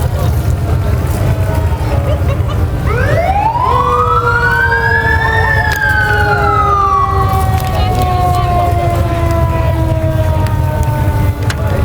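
Fire truck siren from a fire department rescue truck unit in a veterans parade, a loud rising wail that sweeps up, holds, then slowly falls, sounding close over steady crowd and engine rumble.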